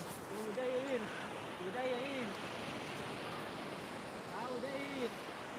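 Sea waves wash steadily along Shrivardhan beach on the Konkan coast, a continuous moderate surf hiss under intermittent talking.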